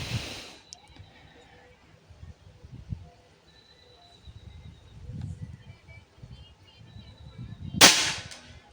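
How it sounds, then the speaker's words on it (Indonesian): A single sharp air rifle shot fired at a target near banana leaves cracks out close and loud near the end, after a long stretch of quiet outdoor ambience with faint background noise. "Tembakan ketiga"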